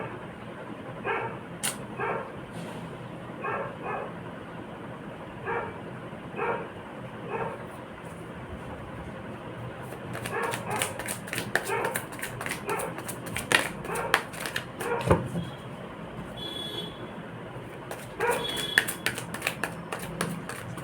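A dog barks in repeated short single barks at a steady pace, then a denser flurry of rapid, louder barking and yips, heard indoors at moderate distance.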